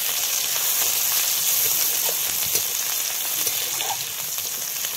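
Chopped onion fries in hot oil with dried chilies and nigella seeds, giving a loud, continuous crackling sizzle that stays even throughout with no talking.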